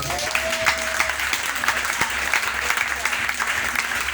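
A church congregation claps in sustained, dense applause throughout, loud and close, with a faint voice briefly audible beneath it.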